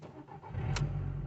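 A car engine cranks briefly and catches after a jump start, settling into a steady, close idle.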